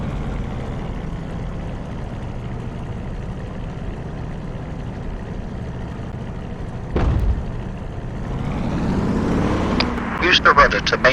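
Supermarine Spitfire Mk IX piston engine in DCS World rumbling steadily through a takeoff run, the drone rising in pitch and power late in the run with a brief sharp thump midway.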